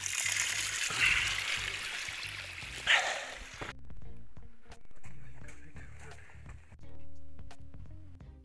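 A mountain stream in snowy grassland rushes loudly and steadily for a few seconds, then cuts off abruptly to quieter sounds with a voice.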